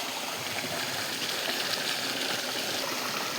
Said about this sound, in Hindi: ये देखो गंदा पानी आ रहा है क्योंकि मैंने पाँव धो दिए ना यहाँ पे।